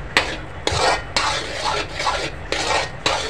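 Carrot halwa cooked in ghee is stirred in a pan, with a spoon scraping in regular strokes about every half second, each with a light clink and a soft sizzle underneath.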